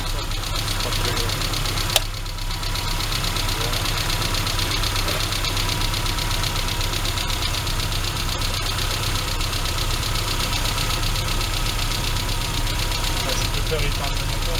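A car engine idles with a steady low rumble and faint knocking throughout, close by, with one brief click near the start; people talk quietly over it.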